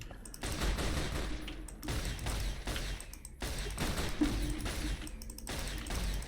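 Rifle fire from a sniper rifle in Fallout New Vegas, heard as a dense run of loud gunshots with overlapping bursts and thuds and no pauses.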